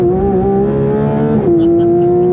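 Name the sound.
Porsche GT3 RS accelerating out of Nürburgring Carousel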